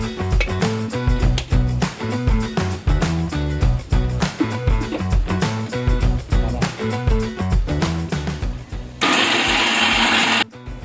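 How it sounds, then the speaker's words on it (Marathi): An electric mixer grinding roasted masala for a mixed vegetable dish, loud and continuous with a chopping, pulsing rhythm throughout, shifting to a harsher steady whir near the end before stopping. "आता आपण आपला भाजलेला मसाला मिक्सरमध्ये टाकून चांगलं बारीक करून घेऊया"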